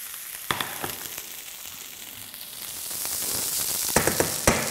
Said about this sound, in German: Jetzt kommen Maronen dazu, die sind bereits vorgegart und ebenfalls noch kurz mit anbraten.